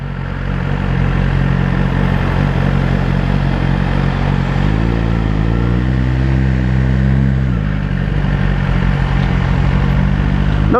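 A Suzuki GSX-R1000 superbike fitted with a Yoshimura exhaust pulls away smoothly, its engine note rising and wavering under a loud, constant rush of wind and road noise.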